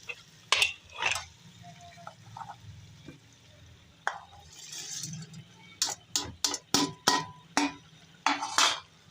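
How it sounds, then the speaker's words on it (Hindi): Capsicum being stirred and fried into beef qeema in a pan, with a run of sharp spoon scrapes and clinks against the pot over a low background hum. "शिमला मिर्च की अब हम भुनाई करेंगे 4 से 5 मिनट, अच्छी तरह से मिक्स करके"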